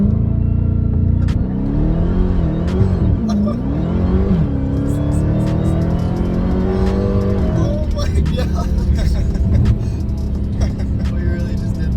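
A Toyota MR2 revs and launches hard, the engine note climbing and dipping in sweeping rises before a sustained pull, loud and close from inside the car, with voices talking over it.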